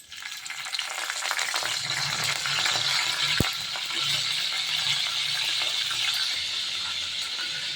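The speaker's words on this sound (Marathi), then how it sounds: "मटकीला द्यायचा आहे आता तडका कढीपत्ता टाकू" Curry leaves drop into hot oil for a tadka tempering, giving a steady crackling sizzle with a brief sharp pop partway through, fairly quiet and close.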